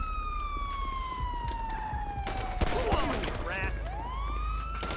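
Gunfire in GTA 5 with the LSPDFR police mod, heard as a burst of sharp cracks in the middle, while a siren's falling wail runs through the whole stretch and a voice speaks over it.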